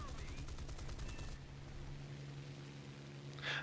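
Cannon fire from a Hispano P-51 in War Thunder during an aerial fight, heard as a rapid burst for about a second over a low engine drone, followed by quieter droning and a brief noisy hiss near the end.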